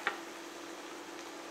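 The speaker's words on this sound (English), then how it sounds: "It will make a lovely sizzle." A steady, soft sizzling hiss of wine in a hot pan, beginning with a small clink and continuing evenly without speech.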